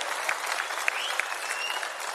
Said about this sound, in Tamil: அவருக்கு உங்களின் பலத்த கைத்தட்டலை வழங்குமாறு அன்போடு கேட்டுக்கொள்கிறோம்.